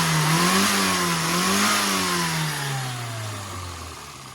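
A freshly tuned classic car engine with a changed ignition and custom carburettor needle revs up twice, then settles and winds down smoothly, loud and close with no voices.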